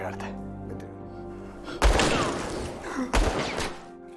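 Gunfire in a thriller film, with two loud, sharp bursts of shots and impacts a little over a second apart, each followed by a brief rumbling decay, under a voice talking.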